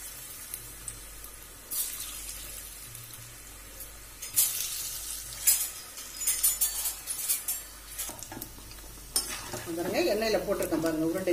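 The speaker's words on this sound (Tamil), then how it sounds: "எண்ணெயில போட்டிருக்கேன் பாருங்க உருண்டைகளை, அழகா பொரியுது பாருங்க" Paruppu urundai, lentil balls, fry in oil over gentle heat, making an uneven, bubbling sizzle in close bursts that swell louder toward the end.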